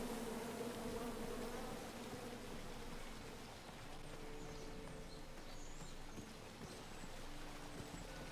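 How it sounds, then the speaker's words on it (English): Swarm of bees buzzing in the adventure game King's Quest, a continuous low drone with a steady hum under soft ambient noise, fairly faint and unbroken. "Come at me, bees!"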